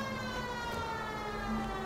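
A police car siren in the video game L.A. Noire wails steadily as a sustained electronic tone over a low engine rumble, with no voices.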